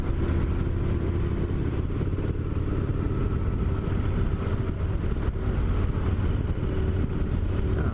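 2017 Harley-Davidson Dyna Low Rider S ridden in fourth gear of a six-speed, a steady deep engine rumble mixed with wind rush, constant and close throughout.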